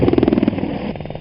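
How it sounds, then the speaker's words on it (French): Helicopter rotors thump rapidly and steadily close by, the chopping beat fading slightly into a rougher engine drone. "Des hélicoptères d'intervention tactique et d'exfiltration."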